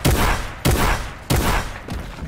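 Fortnite gunfire booms in four heavy, evenly spaced shots roughly every half-second, loud and close, each one trailing off in a long rumbling decay, with no talk over them.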